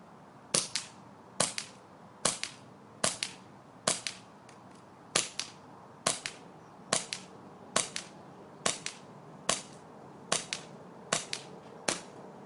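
KWC Smith and Wesson .40 airsoft pistol firing .20 BBs, about fifteen sharp snapping shots spaced evenly, roughly one every 0.8 seconds, close and loud with no talking.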